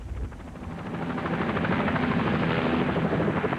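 A helicopter flies over a hut in bear country, its rotor chop a steady throbbing beat that swells from moderate to loud and holds close by, with no voices.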